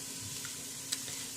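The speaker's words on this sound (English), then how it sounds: "You're going to saute that up until the onions become translucent" Onions and minced garlic sauté in a pot with a steady, even sizzle throughout, broken by one brief faint tap near the end.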